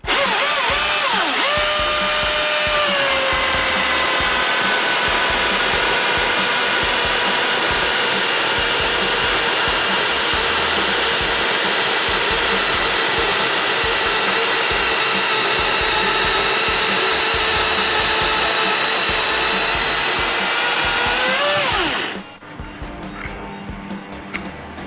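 A chainsaw cutting wood runs as a loud, sustained high whine with a faintly wavering pitch for about twenty seconds. It then winds down abruptly into quiet, with no talking over it.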